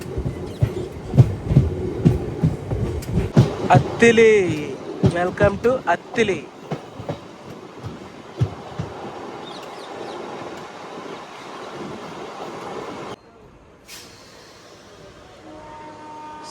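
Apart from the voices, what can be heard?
MEMU passenger train running, Bhimavaram to Nidadavolu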